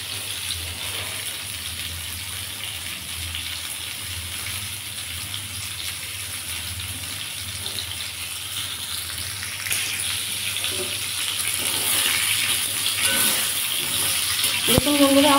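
Pointed gourd frying in hot oil in a pan, a steady broad sizzle that grows louder and busier toward the end, with faint speech in the background.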